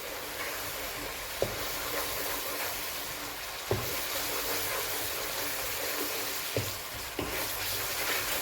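Spice masala of red chilli powder frying in oil, a constant hissing sizzle with a few sharp spoon taps against the pan as it is stirred, close and steady.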